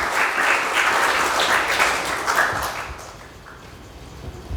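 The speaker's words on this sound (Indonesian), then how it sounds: "Yang setuju kasih tepuk tangan untuk Tuhan Yesus." Church congregation applauding during a sermon, a dense steady clapping that holds loud for about three seconds, then thins and fades toward the end.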